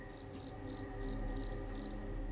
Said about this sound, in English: I'm specialized in the acoustic communication of crickets.